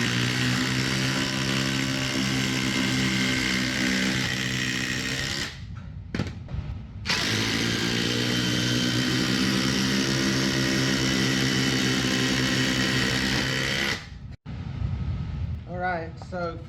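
Impact drivers race head to head, filling the air with loud, sustained high-pitched whirring and rapid hammering that stops briefly twice. After a longer pause comes a shorter burst, and a voice speaks near the end.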